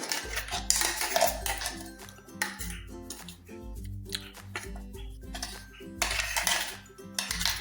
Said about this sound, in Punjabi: ਆਪਣੀ ਚਟਨੀ ਹੋ ਗਈ ਗ੍ਰੈਂਡ ਤੇ ਆਪਾਂ ਇੱਕ ਬੋਲ ਦੇ ਵਿੱਚ ਕੱਢ ਲਾਂਗੇ